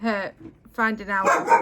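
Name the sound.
dog barking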